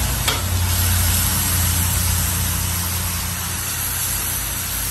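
Sliced ribeye steak for Cajun-style cheesesteaks fries on a hot griddle, giving a loud, steady, close sizzle that fills the whole stretch without pause, with a low rumble beneath.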